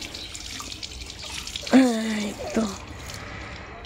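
Tap water runs steadily while hands are washed at a sink, a continuous close splashing hiss under a voice speaking briefly.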